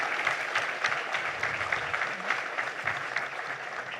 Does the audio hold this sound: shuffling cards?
no